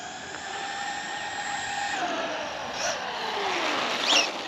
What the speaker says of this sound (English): I can hear it takes a minute for it to spool up with that bigger pinion in there